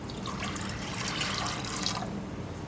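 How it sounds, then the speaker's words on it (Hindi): Water pouring steadily into a pot of soaked chana dal, a continuous close splashing wash lasting the whole stretch with no talk. "2 कप पानी डालूँगी इसमें।"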